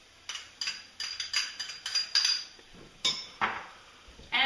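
A utensil clinks and taps repeatedly against a bowl while mixing a dressing of Dijon mustard, chopped basil and garlic, with quick uneven strokes heard up close and fairly soft.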